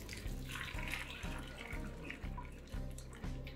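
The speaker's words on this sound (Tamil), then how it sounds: "இப்போ தண்ணியை ஃபில்டர் பண்ணி விட்டுரும்." Water draining off boiled rice for sundal, a steady close pour and splash with a repeating gurgling pulse, alone without talk.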